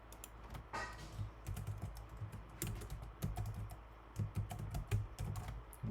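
Fingers tap out a password on a computer keyboard in quick, uneven bursts of crisp clicks that continue steadily for several seconds, close and fairly quiet, with no voices.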